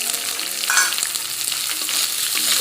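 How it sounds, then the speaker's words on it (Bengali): Raw chickpeas and shredded dried coconut fry in hot oil for a Bengali vegetarian giant taro root curry, giving a close, steady, crackling sizzle with occasional stirring and no voices. "কাঁচা ছোলাটা ভালো করে আমি ভেজে নিব"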